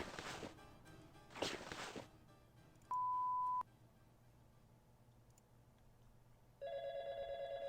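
A telephone in the horror video game GAZE gives a single steady electronic beep, then after a pause starts a warbling, trilling ring that continues to the end over a low game ambience.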